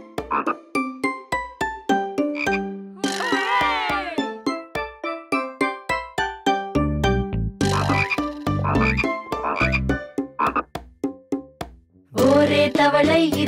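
Cartoon green frog croaks repeatedly in a bouncy Tamil children's nursery song about a frog on a log by a cool pond, the croaks punctuating sung melody with a loud burst of music near the end.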